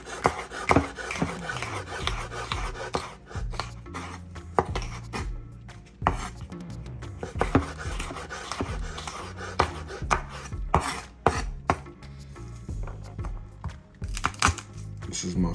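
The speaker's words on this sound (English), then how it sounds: "Just to give it a nice little rough chop." Knife rough-chopping ingredients for stew chicken on a board, with quick irregular knocks and scraping strokes at close range over soft kitchen background noise.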